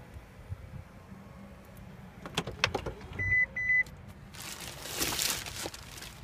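Power-folding third-row seats in a black 2015 Lexus LX 570 4WD with the Executive Package, giving a steady electric motor whir with short clicks and bursts, followed by rustling, close up inside the cabin.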